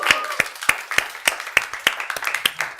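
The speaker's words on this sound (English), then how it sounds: "Clap, everyone." A small group of people clapping together at the start of a live interview broadcast, steady overlapping hand claps with sharp, evenly spaced hits, close and moderately loud.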